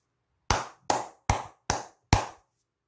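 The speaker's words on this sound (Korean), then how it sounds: "박수 한번 치고 가도록" Five single, sharp handclaps land at an even pace, each a crisp close crack with a short decay and silence between.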